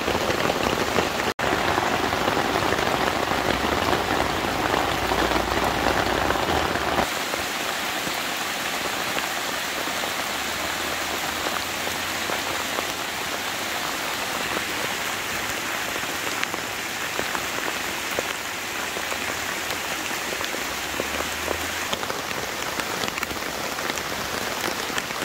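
Heavy thunderstorm rain pounds a tent tarp during an overnight camp, a dense, loud, unbroken patter that continues for the whole stretch with no talking.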